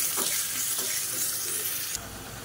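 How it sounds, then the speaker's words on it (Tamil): Small onions sautéing in a pan with asafoetida, a loud close sizzle with stirring scrapes that drops slightly near the end, no voices. "அந்த வெங்காயத்தை நல்லா வதக்கி வச்சுக்கலாம்."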